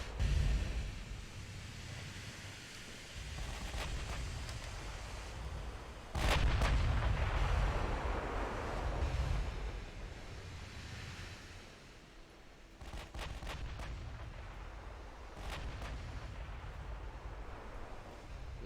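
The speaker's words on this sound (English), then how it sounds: "Okay, they're at least returning fire now." Naval gunfire in the warship game Ultimate Admiral: Dreadnoughts: deep, heavy booming salvos roll out at intervals over a washing sea background, with a few sharper cracks toward the end.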